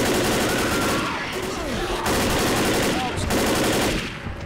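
Rapid automatic gunfire in the Left 4 Dead Dead Air campaign, aimed at a Smoker's tongue, loud dense bursts with brief pauses and a shouting voice mixed in.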